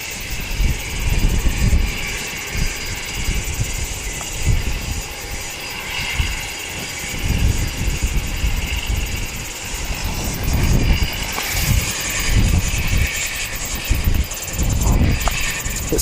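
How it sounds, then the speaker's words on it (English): A Sounds Air Cessna Caravan 208 turboprop at Wellington Airport, its engine and propeller drone loud and continuous, with heavy wind buffeting the microphone. "little Sounds Air caravan down here."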